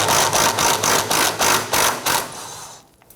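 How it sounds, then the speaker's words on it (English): A rhythmic mechanical rattle, likely a ratchet wrench working the front bolt of the rear sway bar on a 1992-1996 Toyota Camry, repeats in about eight quick bursts up close and then trails off into quiet. "go ahead and remove the front bolt."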